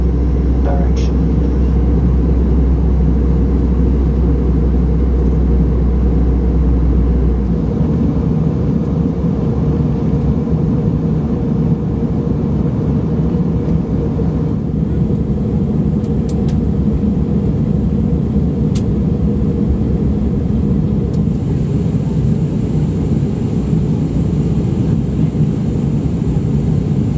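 Steady, loud cabin roar of a British Airways Airbus A319 descending toward Warsaw, a deep continuous engine and airflow rumble with a faint tonal hum, broken only by a few brief cabin chimes and clicks.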